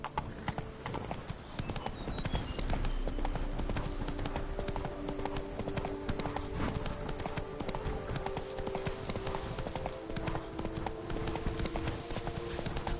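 Roach the horse galloping in The Witcher 3, rapid rhythmic hoofbeats running steadily and loud throughout, with a brief neigh.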